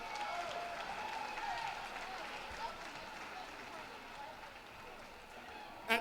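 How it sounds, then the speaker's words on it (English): A commencement audience applauds steadily throughout, a dense wash of claps at moderate distance that holds level for the whole stretch, with murmuring voices mixed in. "Please give the Commencement Committee a round of applause"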